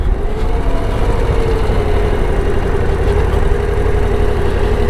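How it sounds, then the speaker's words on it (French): A Harley-Davidson Low Rider ST motorcycle engine idles steadily up close with a fine, rapid mechanical ticking from the fuel injectors running through its even hum. "Bon là j'entends beaucoup les injecteurs"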